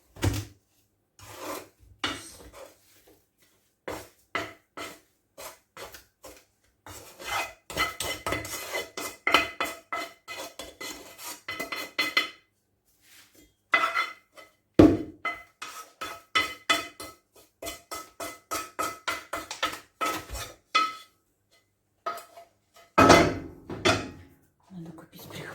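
Hot halva is scraped from a hot frying pan into a serving dish: repeated scraping and rasping strokes in irregular bursts with short pauses, close by, with a person talking over them.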